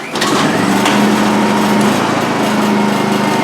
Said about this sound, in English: Give it a choke